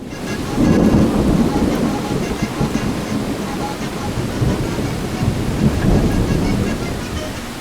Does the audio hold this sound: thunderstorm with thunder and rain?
yes